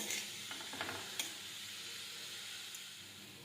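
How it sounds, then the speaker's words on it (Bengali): Chicken pieces stirred and fried in a pan with light sizzling, a few faint scraping clicks of a utensil near the start, then a steady soft hiss of frying continuing alone. "এগুলো ভালোভাবে মিশিয়ে ভেজে নেব"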